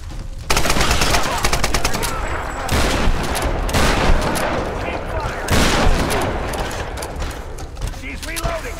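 Rapid, loud automatic gunfire from a firefight in Tomb Raider, in long sustained bursts with heavy booms, continuing with only brief gaps.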